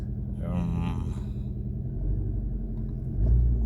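A Hyundai Getz 1.3 engine with a faulty ignition lead idles with a steady, close, low rumble, misfiring and shaking. A voice talks briefly near the start.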